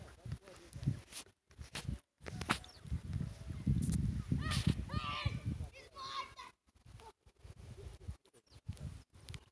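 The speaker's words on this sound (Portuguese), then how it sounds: "Tem muita galinha." Chickens cluck and squawk nearby amid rustling and footsteps, with a person talking over them outdoors.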